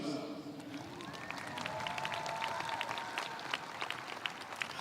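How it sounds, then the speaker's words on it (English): Audience applause in the stands at a high school graduation ceremony, a wash of clapping that swells and stays busy, with crowd noise and a few voices and whistles mixed in. "you guys can clap for yourselves."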